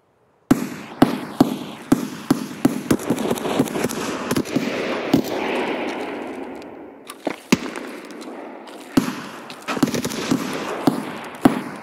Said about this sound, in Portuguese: É eles atirando?